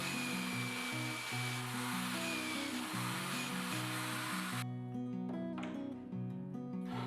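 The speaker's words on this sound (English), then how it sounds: "I'll drill holes in them for the concealed cabinet hinges." Holes being drilled in kitchen cabinet doors for concealed hinges, a continuous whirring tool with shifting pitch that drops to a lighter, more broken sound partway through, close and steady with no talk.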